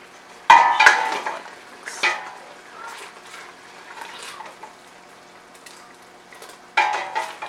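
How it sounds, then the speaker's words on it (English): A vegan strawberry topping with vanilla extract simmers and is stirred in a pan, giving bursts of close clanking and scraping between quieter stretches of soft bubbling and sizzle. "let this simmer a bit"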